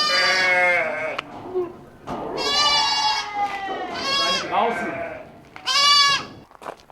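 Goats and sheep bleat loudly and close by in several wavering calls, one after another with short pauses between them.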